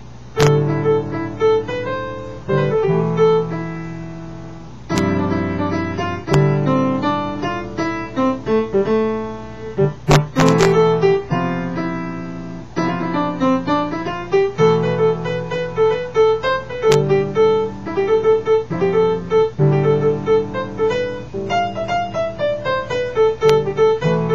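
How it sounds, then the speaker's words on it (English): A solo instrumental melody in A Aeolian, moving stepwise in clear separate notes over a steady low drone, with brief pauses between phrases. "So now I can make a modal melody in A Aeolian, and it might sound like this."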